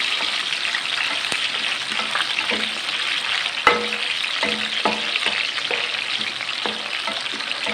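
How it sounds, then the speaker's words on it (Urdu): Tomato, capsicum and whole green chillies fry in ghee with a steady, loud sizzle, broken by occasional stirring clinks and scrapes of a spoon against the pan. "اس کو ہم نے گھی میں 3 منٹ کے لیے فرائی کرنا ہے"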